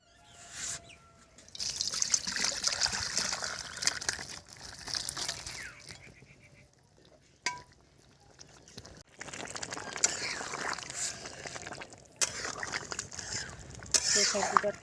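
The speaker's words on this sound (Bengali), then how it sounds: "প্রেসার কুকার থেকে ঢেলে নিলাম।" Duck curry is poured from a pressure cooker into a wok, with wet sloshing and trickling that comes in bursts separated by quiet gaps, plus a couple of sharp clanks.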